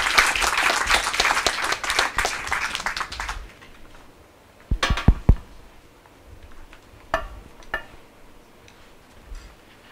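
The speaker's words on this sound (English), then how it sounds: "have a round of applause to all of you" An audience at a roundtable forum applauds the panelists with a dense burst of clapping that fades after a few seconds, followed by scattered single claps and quiet room noise.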